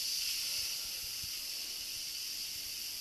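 Steam hisses steadily from an Instant Pot's release valve while pasta salad pressure-cooks, a continuous airy rush at moderate, even volume throughout.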